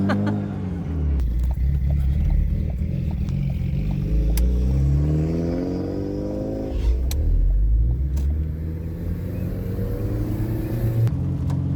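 A fully built Mitsubishi Evo 9 engine while driving, rising and falling through revs with a steady loud rumble and several throttle sweeps, close and alone with little talk.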